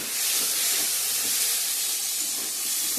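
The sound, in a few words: spiced banana flower frying and sizzling in a pan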